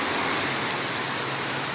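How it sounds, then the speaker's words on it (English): Heavy rain pours down on a New York City street, a dense, unbroken hiss of drops hammering surfaces, loud and constant throughout. "With the crazy rain that's coming down right now."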